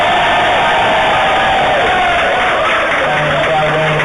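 A fan party crowd for TNA wrestling roars with loud, continuous cheering and applause, a dense wall of voices and yells close up throughout.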